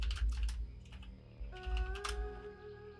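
A computer keyboard clatters in quick bursts of keystrokes, close and crisp, with a pause midway and a steady game tone humming underneath during a World of Warcraft session.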